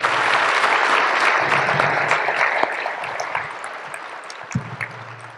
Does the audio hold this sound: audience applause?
yes